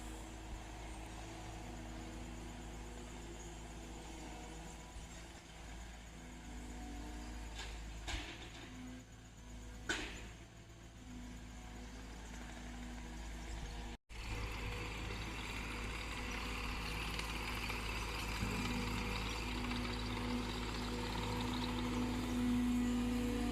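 A skid steer's engine drones steadily while it moves logs outdoors, a low rumble heard from some distance with a couple of clunks partway through and a brief dip before the hum resumes.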